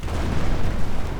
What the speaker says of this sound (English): Nebelwerfer firing in.